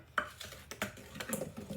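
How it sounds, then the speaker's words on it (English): A wooden spoon stirs chocolate chip and desiccated coconut brownie batter in a bowl, making a run of close, soft scraping and knocking strokes in an uneven rhythm, with no voices. "Sometimes I like to mix using a wooden spoon instead of using the blender or the mixer."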